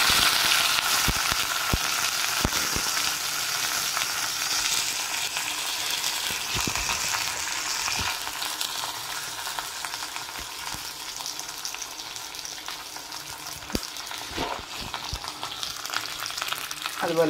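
Sliced shallots, curry leaves, fenugreek seeds and dried red chillies fry in hot oil for a pineapple rasam tempering. A dense, close crackling sizzle holds steady, punctuated by occasional clicks and scrapes of stirring.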